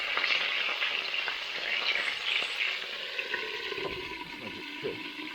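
Chicken frying in oil at a church kitchen crackles and sizzles steadily, with bright spitting bursts and occasional clinks as pieces are stirred, close and fairly loud without talk.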